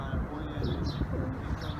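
Pigeon cooing close by, soft throaty rolling calls repeating over a background murmur, with faint chirps and a voice nearby.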